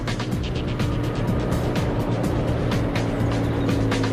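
A Comet tank's Rolls-Royce Meteor engine, a 27-litre 60-degree V12 petrol unit, runs with a loud, steady low rumble and throb sustained throughout, close and continuous with no talk.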